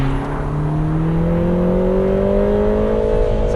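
A Lotus Emira 420 Sport in track mode accelerates steadily, its engine note climbing smoothly in pitch with a loud, close, continuous drone; no distinct pops or crackles stand out.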